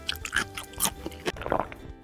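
Close, wet chewing of sliced kiwi fruit, with soft squishy bites and mouth sounds in an irregular rhythm and no talking.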